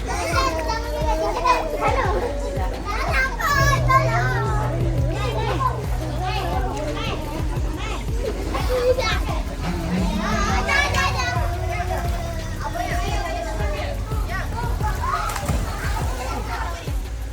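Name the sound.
children playing happily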